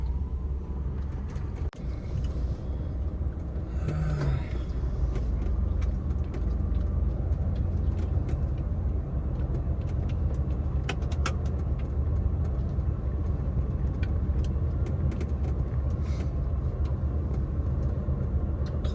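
A car in manual gear driving along a long road at steady throttle, giving a constant low engine and tyre rumble at an even level with no voices.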